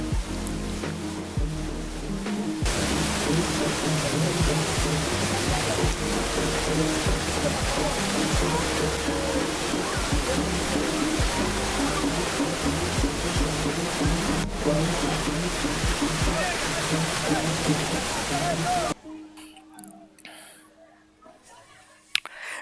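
Loud, steady roar of Kallathagiri waterfall in Chikkamagaluru, Western Ghats, fills most of the clip, with music or a voice faintly beneath, then drops abruptly to a quieter scene near the end.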